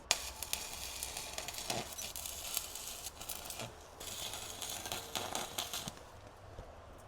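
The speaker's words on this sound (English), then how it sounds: "we're just going to give it a couple of tack welds and call it a day" A welder tacks a clamp in place on a C5 Audi Allroad, giving a crackling, sizzling buzz in short bursts with brief gaps between them, close and fairly quiet.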